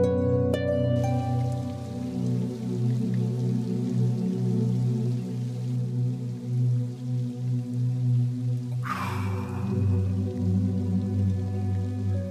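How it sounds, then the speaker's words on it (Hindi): Heavy rain pours steadily in a drama scene, a continuous loud wash with a brief splash or rush near the end, alongside a sustained musical tone throughout and no speech. "इतनी तेज बारिश हो रही।"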